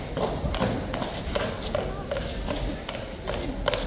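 Hooves of mounted cavalry clip-clop in a steady, repeated rhythm as the last rider leaves at a ceremonial event, with people talking over the hoofbeats throughout.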